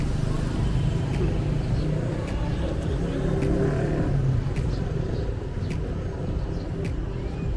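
Continuous motor scooter engine drone and road rumble while riding in Kampot, Cambodia, with wind noise and a faint voice mixed in, steady throughout.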